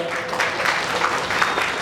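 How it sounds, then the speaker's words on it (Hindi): A crowd at a bakers' association general body meeting in Bombay breaks into brief, dense applause indoors, a steady burst of clapping from many hands. "जोरदार तालियां बनाएं"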